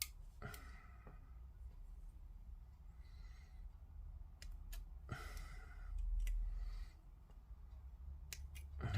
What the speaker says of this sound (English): Where's my snips?